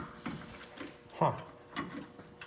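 Short ratcheting clicks of a wrench working a bolt on a Jeep Gladiator lift kit bracket, a few sparse metallic bursts close by.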